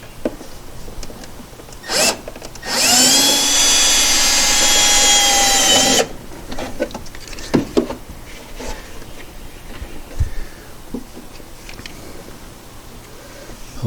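A power drill drives self-tapping screws during a Porsche 912 brake upgrade: a short burst, then a steady three-second whine, followed by scattered clicks and handling noises nearby.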